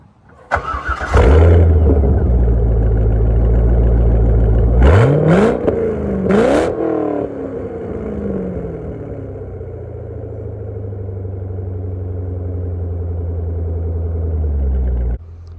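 A Chevrolet C5 Corvette with 98,000 miles cranks and fires up, settles briefly, then gets three sharp throttle blips before dropping into a steady, loud, close idle that runs to the end.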